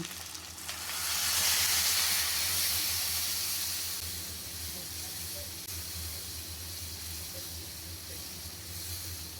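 Water poured into a hot pan of turmeric, chili powder and green chilies for a brain masala, a rising broad hiss of steam that slowly fades to a softer sizzle.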